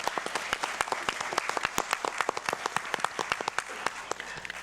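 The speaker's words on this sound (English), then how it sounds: "How about a round of applause for our volunteers?" Dense, steady applause from an audience at a city council candidate forum in Thousand Oaks, many hands clapping close together for the full stretch at an even level.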